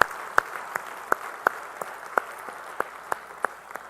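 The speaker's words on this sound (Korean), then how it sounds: "우리 찬양 받으실 주님께 영광의 박수 올리겠습니다." A church congregation claps in a sparse, rhythmic beat at a moderate distance, with about a dozen distinct claps ringing in a reverberant sanctuary and no voices.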